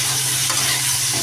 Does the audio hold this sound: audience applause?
no